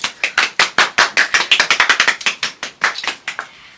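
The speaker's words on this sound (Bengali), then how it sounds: "আবারও হাততালি।" Hand clapping at a friend's wedding anniversary party, a quick run of sharp, close claps from a couple of people, steady at first and thinning out toward the end, with no talk.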